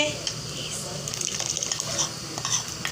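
Ground corn paste goes into a pot of chicken corn soup with soft wet squishing and light clinks of a spoon against the pot, close and quiet.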